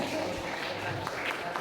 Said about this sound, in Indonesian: Tepuk tangan untuk Pak Pol.